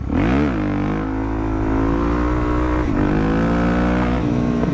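A motorcycle engine climbs hard in second gear during a wheelie, then upshifts with a brief dip in pitch before pulling again, loud and close with no talking; the bike is running rough.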